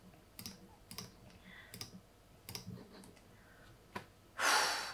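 Computer mouse clicking during a fast font game, with a run of light, sharp clicks spaced at uneven intervals, close and quiet, then a short burst of breathy noise at the end.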